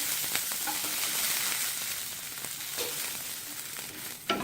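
Chopped garlic roasting in ghee gives a steady close sizzle with occasional light crackles and a brief stir or clink near the end.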